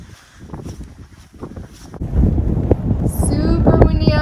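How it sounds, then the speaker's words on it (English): Strong wind on a cloud-covered mountaintop in the Smokies roars and buffets the microphone, building louder halfway through, with a brief high whistle near the end. "Super windy up here, and we are in a cloud."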